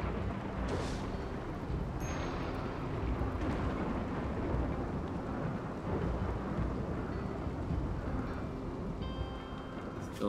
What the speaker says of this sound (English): It is starting to rain. There's a rainy thunderstorm out here.